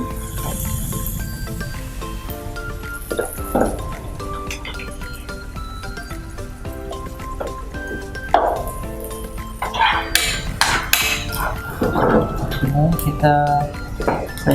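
Vegetables with red capsicum sizzle as they are sautéed in a pan for a healthy home-cooked dish, then water is poured in with a hiss and splash, mixed with utensil clinks, under ongoing conversation.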